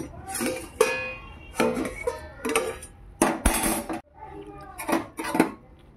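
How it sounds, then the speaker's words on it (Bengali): A metal lid comes off a pot of cooking dal with a series of loud clanks and scrapes in a home kitchen, several sharp metallic bursts over about six seconds. "ঢাকাটা খুলে দিলাম।"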